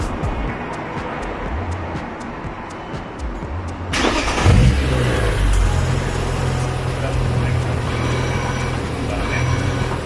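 BMW E36 M3 engine, running quietly and then revving up sharply partway through to a steady, loud, rough idle-to-rev drone, with faint ticking before the rise and people talking underneath.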